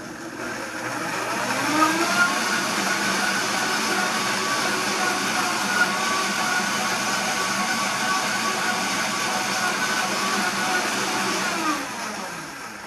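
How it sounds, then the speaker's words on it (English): A kitchen blender whirs at high speed while blending the ingredients for vegan chia seed caviar. The loud, steady motor whine runs near and alone for about eleven seconds and then winds down. "we just need to blend for like 10 seconds"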